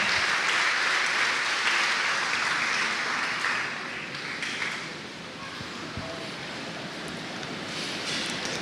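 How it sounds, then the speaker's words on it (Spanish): A church congregation claps loudly and steadily at a worship service, the dense applause easing down partway through and carrying on at a lower level to the end. "Vamos a dar un aplauso fuerte a Jesús"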